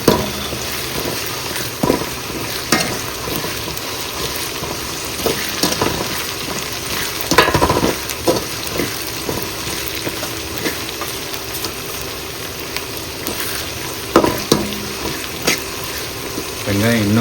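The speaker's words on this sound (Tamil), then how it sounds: "இஞ்சி பூண்டு பேஸ்ட் வதங்குற அளவுக்கு வதங்குற வரைக்கும் கொஞ்ச நேரம் கரண்டியை வச்சு தடவிட்டே இருக்கும்" Ginger garlic paste sautés in a pan for pepper chicken gravy, a steady sizzle with periodic scrapes and clicks of a spoon stirring, fairly close, with occasional speech-like sounds over it.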